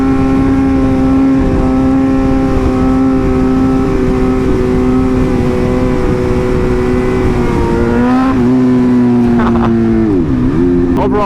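A BMW M1000RR sport motorcycle rides along a road, its close, steady engine drone holding an even pitch before dipping and revving up again near the end, with wind rush throughout.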